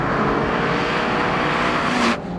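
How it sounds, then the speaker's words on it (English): A Honda S2000's VTEC engine revs hard in a steady, loud, sustained drone with a constant surge, then cuts off abruptly near the end. "as hard as you can rev the engine, it's just a constant surge."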